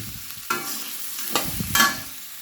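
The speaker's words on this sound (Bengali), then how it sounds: "এই পেঁয়াজটা এই মোটামুটি দু তিন মিনিট ভাজবো" Onions frying in a pan for a Kerala-style chicken curry, with soft sizzling under several short scraping stirs of a spatula, close and moderately quiet.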